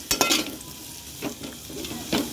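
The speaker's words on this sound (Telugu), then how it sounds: "ఆ నూనెలో వేసుకోవాలి బీట్రూట్ అయితే." Beetroot frying in oil with a steady close sizzle, broken by three sharp stirring scrapes spaced about a second apart; no voices.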